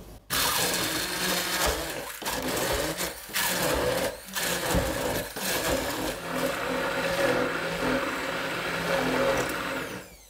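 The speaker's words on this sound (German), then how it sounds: "Und das gebe ich komplett samt der Flüssigkeit hier in meinen Becher. Das püriere ich." A blender purees chickpeas together with their cooking water, a loud, continuous motor whir with brief dips and surges as the mixture churns, close by, with no voices.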